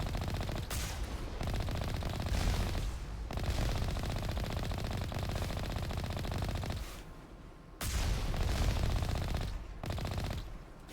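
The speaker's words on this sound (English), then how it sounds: "I think they're already shooting at us before we're even at the top of the mountain" Dense, sustained bursts of automatic gunfire from enemies in Mass Effect on a mountain approach, loud and continuous with a few short pauses between volleys, and no talk over it.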